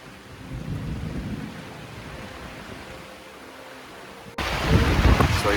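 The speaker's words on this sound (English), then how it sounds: "it is raining heavily right now" Steady heavy rain with a low rumble of thunder in the Sundarbans, which grows suddenly louder and harsher near the end.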